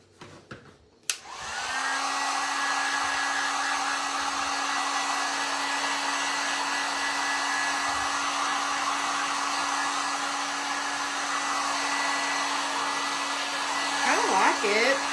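After a click, a hair dryer whirs on and runs steadily and loudly for over ten seconds while drying a pink-painted cross bought secondhand. A brief rustle comes near the end.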